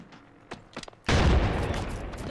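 Dense burst of gunfire in Apex Legends during a team fight, a few sharp shots followed by a sustained loud barrage that keeps rolling to the end.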